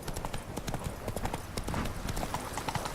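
Horse hooves gallop in The Witcher 3: Wild Hunt, a fast, steady clip-clop rhythm that fills the whole stretch, close and even, with a voice speaking faintly underneath.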